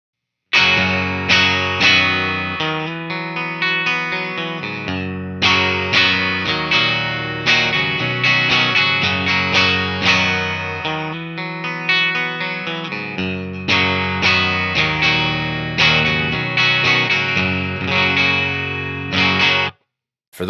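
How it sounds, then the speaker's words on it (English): Electric guitar played through an amp with the preamp gain turned down and a speaker impulse response, giving a mostly clean tone with effects. Continuous chords and picked notes play loud and close for about twenty seconds with no talking. "show you a clip of where I backed the preamp gain down on the amp and really cleaned it up so that it's basically a clean sound"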